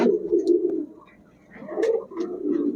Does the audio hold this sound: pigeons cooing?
yes